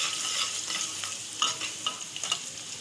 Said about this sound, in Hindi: मैं इसमें अब ये लहसुन भी डाल दूँगी और थोड़ा सा इसको फ्राई करूँगी।